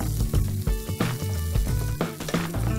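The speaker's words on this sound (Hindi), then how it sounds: "उसके बाद हम डालेंगे पतला कटा हुआ प्याज" Thinly sliced onion frying in hot oil with whole spices such as mace, black cardamom and green cardamom for a vegetable dum biryani, sizzling steadily and close with a few sharp stirring clatters, no voices.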